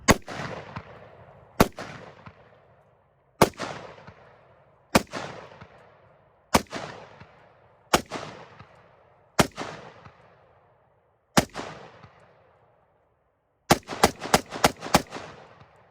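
A handgun fitted with a single-port compensator fires outdoors, loud sharp shots in slow spaced succession, each one followed by a decaying echo, and then a quick burst of several shots at the end.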